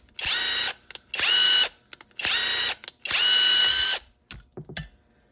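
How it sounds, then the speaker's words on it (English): Loud ratcheting bursts come in four long strokes with short clicks between them as a bolt is worked back and forth to chase the threads in a Yamaha Viper 700 control rod, close and with no talking. "With that bolt, just using it as a tap to clean out the threads inside of the control rod."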